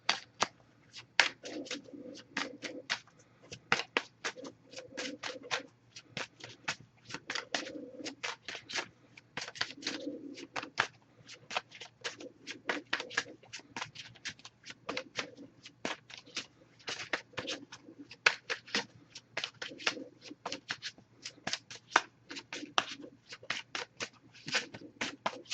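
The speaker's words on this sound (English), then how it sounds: "Just going to give this a few shuffles." Shuffling of a Messages of Love oracle card deck, with repeated crisp riffling bursts and rapid card flicks in an even rhythm for a long stretch, close and fairly soft.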